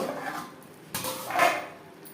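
A metal lid set down on a cooking pan of ash gourd simmering for a Bengali ghonto, giving a close, short clank followed by a brief settling rattle, with no talking.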